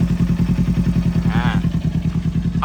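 A 2018 Kawasaki Ninja 400 with about 14,000 km idles close by, its engine throbbing in a fast, even pulse that stays steady and loud for the whole stretch.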